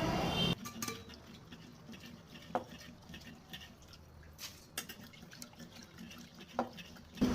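Soaked rice for appam batter is washed by hand in a vessel of water, with soft sloshing and scattered light clinks and drips, quiet and close.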